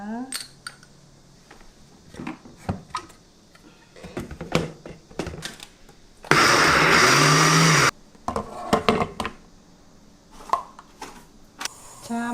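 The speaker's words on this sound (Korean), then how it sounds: "고추 한번 갈아 볼게요." Kitchen clatter and tapping, then a blender grinding chili peppers roars loudly for about a second and a half before stopping, followed by more handling noises.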